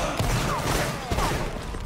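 Musket volleys crackle in a Napoleonic battle video game, a dense, continuous rattle of massed gunfire that sounds distant and fills the whole stretch, with faint voices mixed in.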